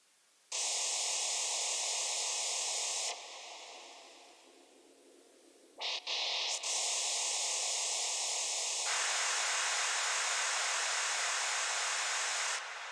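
Studio synthesizer noise oscillator switched between looped noise and plain white noise: a loud, steady broadband hiss that drops out briefly, then returns and holds evenly, with no voices.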